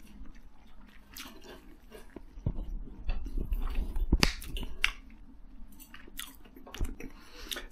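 Someone eats spam with cheese and bacon, with close crunchy bites and chewing in irregular bursts, sharp clicks and snaps scattered over a quiet background.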